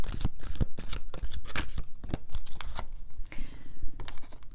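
Tarot cards shuffled by hand during an astrology reading, giving a steady run of crisp riffling and flapping bursts, close and fairly loud, with no talk.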